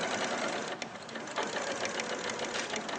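Sewing machine stitching around a heart-shaped piece of fabric, a steady close whirring hum with fast even needle ticks and one short pause and restart.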